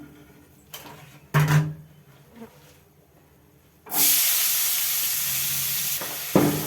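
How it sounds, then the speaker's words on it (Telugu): Onions tipped into hot oil in a pan where silver fish heads and eggs were fried for a brinjal pulusu, with a few knocks first, then a loud, steady sizzle that fills the rest of the clip. "ఇప్పుడు ఉల్లిపాయలు వేసుకుందాం"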